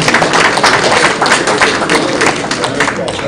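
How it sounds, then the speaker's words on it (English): An audience at a legal conference gives a round of applause: sustained, close, evenly spread clapping with occasional sharper thuds, continuing for several seconds without a break. "Another round of applause, please."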